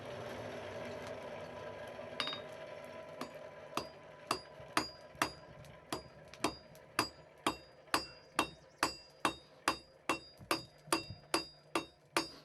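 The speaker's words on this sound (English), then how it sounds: "You start by just forging out a shank." A blacksmith hammers hot iron on an anvil to forge out the shank of a nail at a historic farm museum. The ringing blows land singly at first, then fall into a steady, quickening rhythm of about two dozen close strikes.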